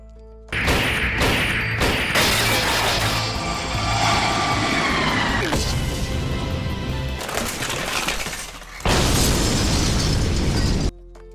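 An anime explosion from a fight with a robot, with a sudden loud blast, a long roaring rumble with crashing debris and a second heavy burst before it cuts off abruptly. No voices.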